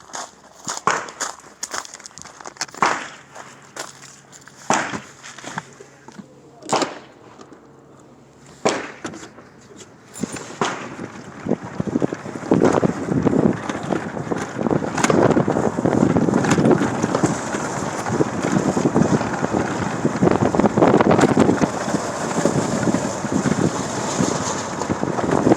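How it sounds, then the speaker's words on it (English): A golf cart ride at an outdoor shooting range. Scattered sharp knocks and clatters come first, then a steady rolling rumble with wind buffeting the microphone as the cart moves along. "Golf cart ride."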